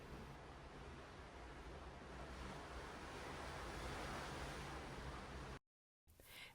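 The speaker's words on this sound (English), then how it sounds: "with the sound of the ocean in the background" Ocean waves wash continuously below a Sky Princess cruise ship balcony at night, a broad steady surf roar with some wind, cutting to silence near the end before resuming briefly.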